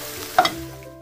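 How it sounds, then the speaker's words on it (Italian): Aubergines seasoned with pepper are stirred in a frying pan, giving a short scraping stir over a soft, steady sizzle. "Diamo una bella mescolata e lasciamo cuocere a passire per una decina di minuti."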